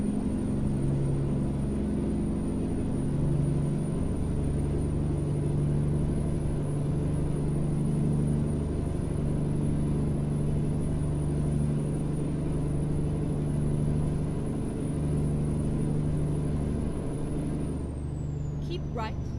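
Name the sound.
Kenworth twin steer truck engine, American Truck Simulator video game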